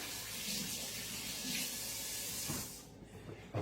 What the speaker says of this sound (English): I'm going to rinse my hands off here